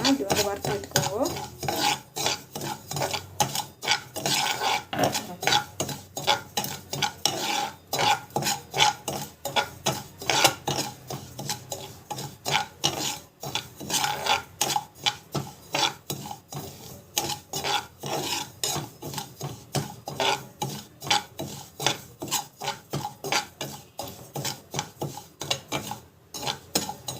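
Semolina being dry-roasted and stirred in a pan, a steady rasping scrape of spoon against metal with grainy rubbing, repeating in quick irregular strokes for the whole stretch, moderately close and with no talking.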